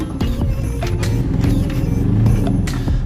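Aixam GTI microcar engine with a small, buzzy kart-like note, running steadily and close by with a low rumble and light mechanical clatter, no talk over it.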